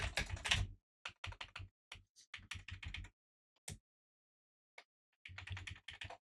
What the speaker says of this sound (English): do a little ASMR portion of the stream where I type with the keyboard